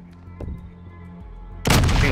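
A video game gun fires a loud, heavy blast near the end, after a brief faint thump and a quieter rumbling stretch.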